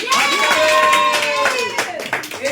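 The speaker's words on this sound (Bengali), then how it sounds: "একবার জোরে হাততালি" Loud clapping from a film crew after pack-up of a shoot, a brief burst of hand claps mixed with cheering voices.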